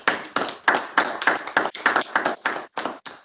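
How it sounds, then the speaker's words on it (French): Hand clapping during a council meeting held by video conference: about a dozen crisp, separate claps at a quick, slightly uneven pace, close and loud, with no voices. "Je peux vous applaudir."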